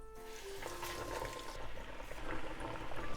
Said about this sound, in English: I'm going to fry this in medium heat for about 4 to 5 minutes.